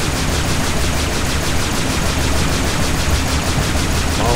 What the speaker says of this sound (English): Shield generator, blow that up.